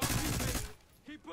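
Call of Duty Black Ops 6 gunfire: a short, loud burst of rapid shots that stops abruptly, followed by a voice speaking.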